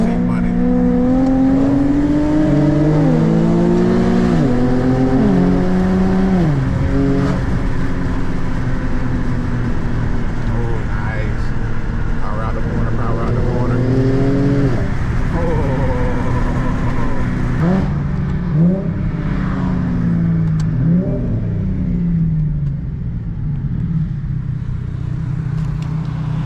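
An Infiniti fitted with coilovers takes a back-road corner fast, around 45 mph. The engine is close and loud, holding a steady drone whose pitch climbs and falls in sweeps as it accelerates and eases off.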